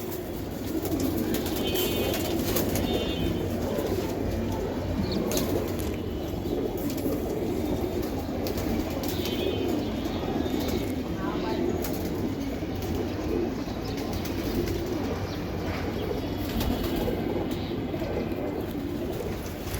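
A pair of BRPFC club racing pigeons coo in low, repeated throaty calls over a steady background rumble, with occasional brief higher chirps and a soft rustle of movement, no voices present.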